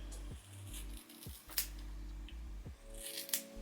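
Scissors snip through a wig in a handful of quick, crisp cuts, close and fairly quiet, with brief pauses between strokes and no talking.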